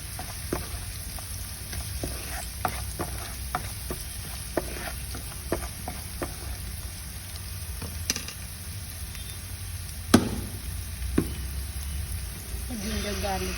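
Ginger garlic paste with turmeric fries in a pan for tomato elbow macaroni, giving a steady close sizzle broken by light clicks and scrapes of a stirring spoon.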